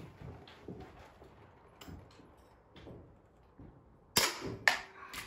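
Several faint distant gunshots at silver dollar targets on a shooting range, spread irregularly, followed by two louder, sharper close reports near the end, with no talk.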